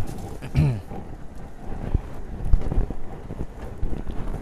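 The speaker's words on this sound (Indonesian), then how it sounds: "Cuacanya juga mau hujan ini" Wind buffets the microphone outdoors in a rural village as a rainstorm approaches, with low rumbling gusts and brief thuds. A short rising sound comes early on, and the wind rises and falls throughout at moderate loudness.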